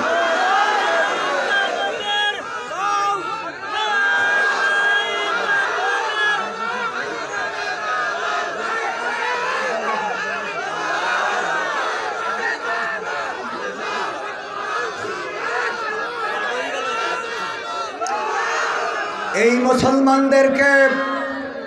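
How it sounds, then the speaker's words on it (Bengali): A large crowd at an Islamic sermon gathering shouting the Nara-e-Takbir slogan, a dense mass of raised voices chanting together, loud and sustained, with a leader's call rising over them near the end. "নারায়ে তাকবীর শুনতে চাই, দাও স্লোগান।"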